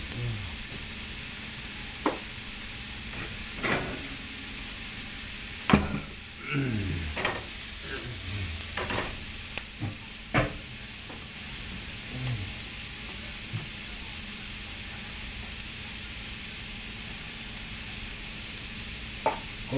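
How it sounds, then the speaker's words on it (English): Cream sauce for an Alfredo pasta cooking in a pan, with a constant soft sizzle and hiss and occasional stirring scrapes and taps, close by with no talk over it. "making a cream sauce"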